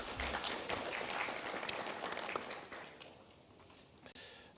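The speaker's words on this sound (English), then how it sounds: "Let's give him a round of applause." Applause for a vice minister at a national summit on ending gender-based violence, a dense clapping wash from the gathered audience that gradually thins and fades toward the end.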